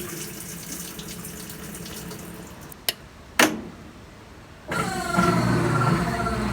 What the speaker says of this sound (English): it's going to go through a child safety algorithm before it starts to spin with 2 sprays of water